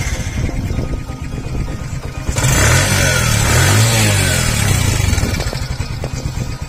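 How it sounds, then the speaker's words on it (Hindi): A Bajaj CT110 motorcycle with about 25,000 km on it is self-started. A steady close engine idle rises into a louder, rougher running note for a few seconds, then settles back, with no talking. "तो मैं आपको इसको स्टार्ट करके दिखाता हूँ। सेल्फ स्टार्ट है ये,"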